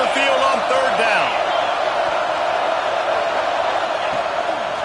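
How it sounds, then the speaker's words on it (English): A home crowd roars continuously at a college football game as the defense faces third down, a dense, loud wash of cheering with a play-by-play announcer talking over it. "Here comes this home crowd as the defense tries to get off the field on third down"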